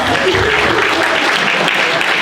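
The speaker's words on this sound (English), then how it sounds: "you just give him a round of applause," Loud, dense audience applause at a security summit, steady and sustained throughout the short stretch.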